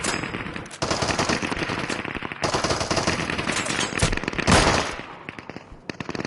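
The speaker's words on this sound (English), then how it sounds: "Gotta shoot this guy twice." Rapid automatic gunfire in the survival shooter Deadside, loud close bursts of rattling shots with a short pause and a final heavy blast fading out, no talk.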